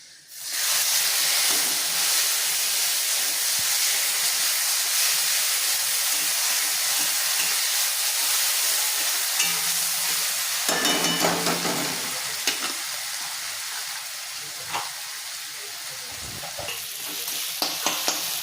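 A ginger, garlic and onion paste hits a pan of already fried onions and fries with a loud, continuous sizzle and hiss, with scraping stirring sounds and crackles toward the end.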